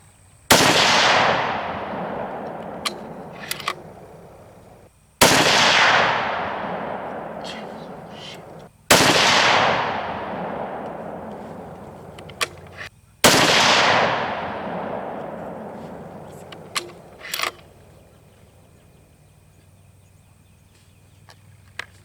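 Four loud, sharp .260 Remington rifle shots ring out a few seconds apart, each followed by a long echoing decay, with small clicks and handling noises between them.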